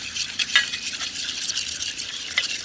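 Raita being stirred by hand with black pepper powder and salt, a soft continuous wet mixing and scraping with a few brief clicks, close and fairly quiet, no talking.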